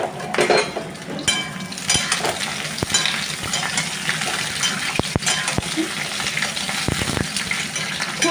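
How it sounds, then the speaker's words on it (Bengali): Snake gourd pieces frying in hot oil, a dense steady sizzle with scattered clinks and scrapes of a utensil stirring in the pan, close and fairly loud throughout, no talk. "আমি এবার এই চিচিংগুলো হালকা ব্রাউন কালারের করে ভেজে নেব।"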